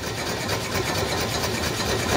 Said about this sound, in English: There you go, the engine's all up to temperature now.